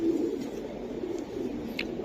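Racing giribaz pigeons give soft, low cooing, faint and continuous, with a brief higher chirp near the end.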